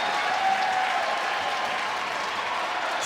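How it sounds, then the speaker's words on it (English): Crowd at a women's college basketball game between Miami and Duke roars and applauds in a steady, dense wall of cheering without letting up. "Crowd loves it. Make some noise."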